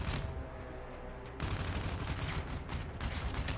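Rapid video game gunfire during a competitive shootout match, a dense continuous rattle of shots that cuts briefly, then returns louder and steady until the end, with no talking over it.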